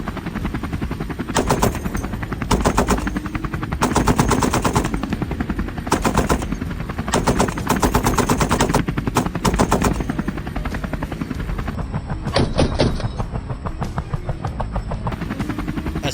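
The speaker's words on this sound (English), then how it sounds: "a rapid volley of gunfire erupted" Loud bursts of rapid machine gun fire from a helicopter rattle out in repeated volleys over the steady thudding drone of the helicopter, during a wild boar hunt.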